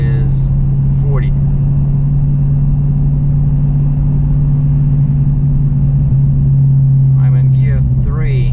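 A 2018 Dodge Challenger R/T 392 Scat Pack V8 drones steadily from inside the cabin while driving slowly in third gear around 2,000 RPM, a loud, continuous low hum that never breaks, with brief faint voices at the start and end.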